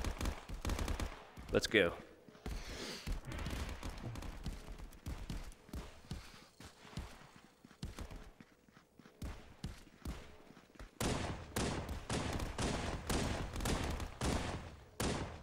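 Rapid bursts of pistol gunfire in the VR shooter Contractors, many sharp shots in quick clusters with brief gaps, mixed with game noise while a player talks briefly.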